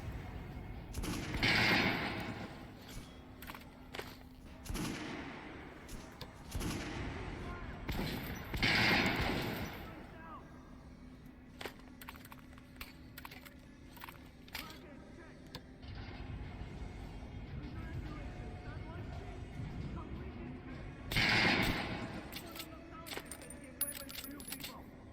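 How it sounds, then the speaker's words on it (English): A shotgun fires three times in Metro Last Light Redux, each a heavy boom several seconds apart, with quieter clicks and handling noise between shots. "Let's try the shotgun."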